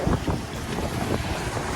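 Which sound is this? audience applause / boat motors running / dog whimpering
boat motors running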